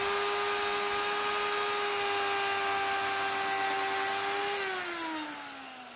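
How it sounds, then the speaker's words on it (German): A wood router test-milling scrap wood runs at a steady, loud whine with a strong sustained tone, then drops in pitch and fades slightly as it spins down near the end. "Ich mache hier ein paar Testeinstellungen und Testfräsungen aus Restmaterial"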